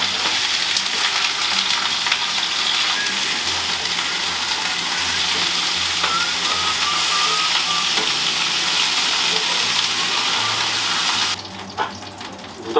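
Chunks of pork sizzling and crackling steadily in hot frying oil, a dense continuous hiss with small pops, cutting off abruptly near the end and leaving a quieter background.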